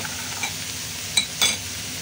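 A pan of mung bean stew with meat, garlic, onion, ginger, shallots, black pepper and coriander is stirred over the heat, with soft sizzling and a couple of sharper scraping strokes.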